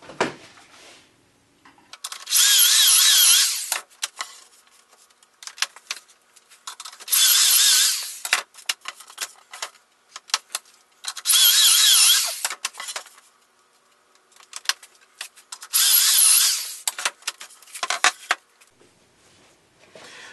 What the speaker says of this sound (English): Now I'm just going to drill the pocket holes into the back of the top.